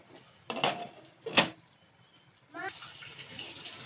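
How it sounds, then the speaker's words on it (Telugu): A lid set down on a cooking pot of okra tamarind stew, giving a short metallic clatter preceded by a couple of brief knocks, close by, followed by soft simmering noise with speech around it. "మూత పెట్టేసుకున్నాం"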